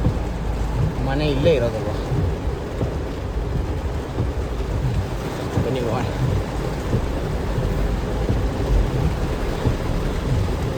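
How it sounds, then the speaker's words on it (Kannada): Heavy rain hammering down outdoors during a thunderstorm, a dense loud roar of drops beating on surfaces without pause, with people talking nearby throughout. "ಮಳೆ ಹೆಂಗೆ ಬರ್ತೈತೆ ಅಂದರೆ ಪೂರ್ತಿ ಟಕ ಟಕ ಟಕ ಅಂತ ಜೋರಾಗಿ ಬಂದ್ಬಿಡ್ತು"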